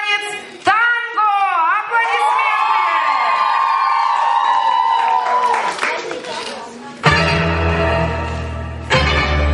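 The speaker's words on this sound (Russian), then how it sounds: "Аплодисменты!" Loud crowd cheering, whooping and shouting at a counselors' concert at a children's summer camp, swelling after an announcement, then a burst of clapping and applause near the end.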